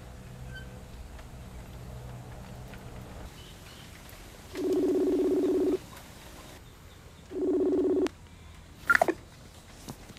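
A telephone call rings out unanswered: two electronic ringback bursts, each about a second long, sound a couple of seconds apart over quiet room background, followed by a short sharp click.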